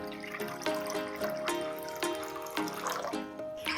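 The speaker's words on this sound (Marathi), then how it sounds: "आपण इथे 1 कप पाणी घेऊया." A cup of water is poured in a home kitchen while making sizzler sauce, a soft continuous trickle with small splashes and clinks, fairly faint.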